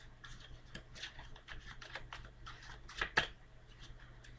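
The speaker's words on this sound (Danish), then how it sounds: "Og så blander vi lige en gang til." Playing cards riffled and shuffled by hand, a quiet series of quick soft flicking and tapping bursts with a faint steady hum underneath.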